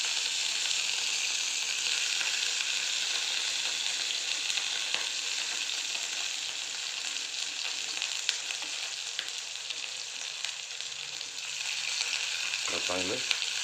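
Cumin and chili thecha fry in a pan with a loud, continuous sizzle that hardly changes, dotted with small pops and a brief scrape toward the end.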